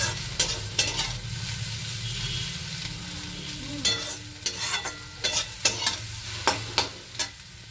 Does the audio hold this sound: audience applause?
no